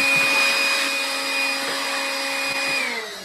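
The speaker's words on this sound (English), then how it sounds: "I love this vacuum." A Makita cordless battery vacuum cleaner runs with a steady, close whine and airy rush that holds even, then starts to wind down at the very end, with no voices.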